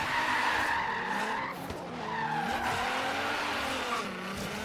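Nissan GT-R on wide Liberty Walk tires drifting in Forza Horizon 3, with loud continuous tire squeal and wavering screech as the car slides sideways, over engine drone and no talking.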